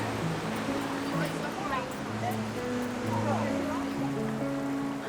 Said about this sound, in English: the start of a lovely walk by the riverbanks and weirs of this beautiful chalk stream